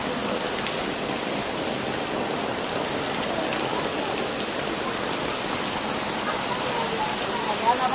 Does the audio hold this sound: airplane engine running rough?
no